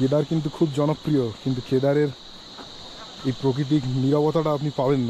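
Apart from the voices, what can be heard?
crickets chirping on a mountain trek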